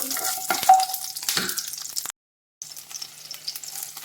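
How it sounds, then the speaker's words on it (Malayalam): Small onions fry for sambar masala in a pan, giving a steady, close crackling sizzle with a short stirring scrape, a brief full cut to silence, then the frying hiss resumes. "ചെറിയുള്ളിയാണ് ആദ്യം വറുത്തെടുക്കേണ്ടത്"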